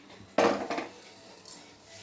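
A pot of fish curry set down on a stove, giving one sharp metallic clunk followed by a softer clink and a faint scrape close by, then quiet.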